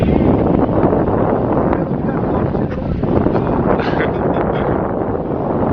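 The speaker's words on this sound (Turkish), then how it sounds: "Ay çok bir rüzgar var be." Strong wind buffets the microphone in a continuous loud rumble outdoors at a model aircraft flying field, with a voice speaking faintly underneath.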